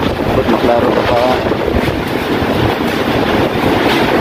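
Strong Super Typhoon Odette wind roars steadily into the microphone with a broad, blustery rush, loud and continuous throughout.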